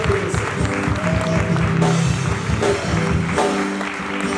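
A church congregation at a seminar service claps to acclaim the Lord, a loud, dense, sustained round of applause with faint tonal music or voices running underneath.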